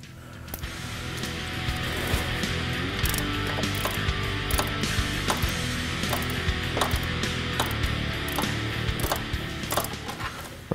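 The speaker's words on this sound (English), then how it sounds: "I'm going to be using a 3-inch extension, a universal socket, and a 13 socket." A ratchet wrench with a 3-inch extension, universal joint and 13mm socket works loose a hard-to-reach nut on a Jeep Wrangler hood catch, giving steady, rapid clicking up close over a constant mechanical background.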